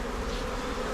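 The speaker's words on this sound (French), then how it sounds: "Là je brosse les abeilles tout doucement, sans appuyer." Honeybees buzz in a dense, continuous drone as they are gently brushed off a hive frame during a spring inspection, close and steady throughout.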